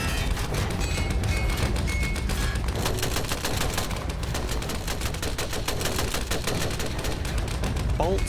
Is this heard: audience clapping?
no